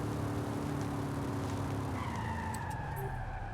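A Chevrolet Corvette in the Forza Horizon video game skids and drives, its steady engine drone running alongside squealing tires. The pitch shifts partway through, and faint clicks come near the end.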